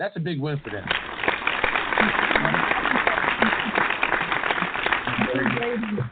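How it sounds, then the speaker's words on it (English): Applause rises on a barbershop talk radio show, a burst of clapping that carries on under voices and then fades as talk resumes. "Let's applaud him."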